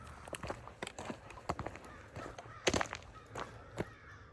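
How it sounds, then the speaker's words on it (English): Several crows cawing in short repeated bursts at moderate distance, irregular rhythm, over quiet outdoor ambience along a rural trail in Illinois. "That's crows, if the camera's picking it up."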